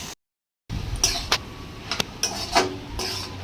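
Banana flower and jackfruit seeds are sautéed together in a pan. After a brief silence come quiet, repeated scrapes and stirring strokes of a spatula against the pan, spaced irregularly.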